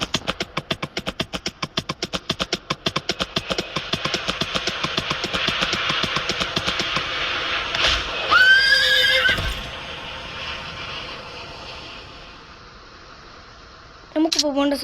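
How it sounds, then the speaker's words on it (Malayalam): In a video game, a horse's hooves beat out a fast, even gallop before the horse gives a loud, shrill whinny, and the hoofbeats fade over faint engine-like noise. "കുതിര ഓടിക്കോ. അയ്യോ കുതിര ഇടിച്ച."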